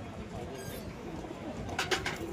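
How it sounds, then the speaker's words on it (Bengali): Domestic pigeons, powder (pouter) birds, coo softly at the busy Beldanga pigeon market in West Bengal, a faint, low murmur under distant crowd noise. "এই হচ্ছে কবুতর"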